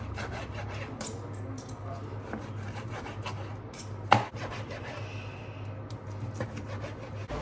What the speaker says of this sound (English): I'm just gonna chop this steak up.